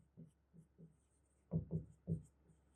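Marker or chalk writing on a board during a classroom lesson on electricity bills, a handful of short scratchy strokes in quick succession, close and fairly clear over a quiet room.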